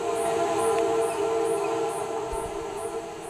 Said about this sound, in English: The sound of a train is the only thing that drowns out the quietness on Peter Street